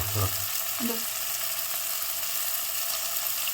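Masala with salt sizzles steadily in a pan on the stove, a continuous close frying hiss with a couple of soft low knocks near the start.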